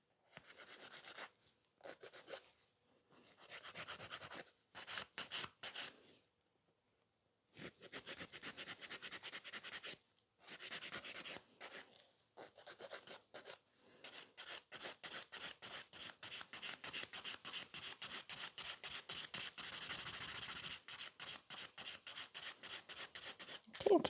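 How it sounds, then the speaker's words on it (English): A 100-grit file working a gel nail, rapid scratchy back-and-forth rasping in quick bursts with short pauses, close and fairly quiet, becoming a steady fast rhythm toward the end. "I'm using a grit 100, which is a little bit stronger and make my filing much quicker."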